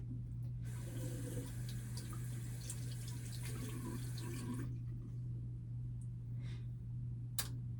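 A tap runs steadily into a sink for several seconds while something is washed, then stops, leaving a low hum and a few small clinks and drips.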